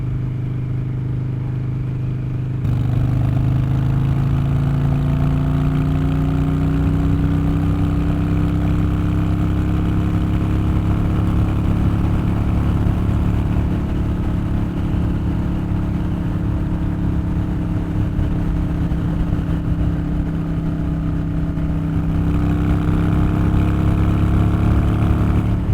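A crashed Harley-Davidson Dyna motorcycle engine runs steadily up close, a deep, loud idle with a faint rise in revs that holds for about twenty-five seconds with no talking.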